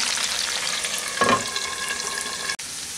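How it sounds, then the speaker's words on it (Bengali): Potatoes frying in oil toward light brown for a vegetarian aloo dum, a dense close sizzle with a brief stirring scrape midway and a sharp clink near the end. "এখন এই আলুগুলোকে আমি একটু হালকা বাদামি রং করে ভেজে নিচ্ছি"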